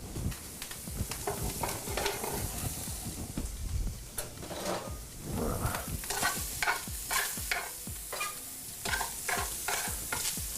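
Vegetables tossed and browned in a hot frying pan at a chef's cooking demo, a steady sizzle broken by repeated scraping stirs and clanks of a utensil in a fairly close, busy rhythm, with no talking.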